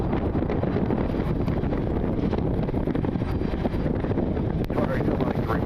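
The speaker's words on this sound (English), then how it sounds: "Try to listen to see how windy it is on the stream." Steady, heavy wind buffeting an outdoor microphone at a plane-spotting spot near Cleveland, a continuous low roar with gusty rumble throughout and no clear break.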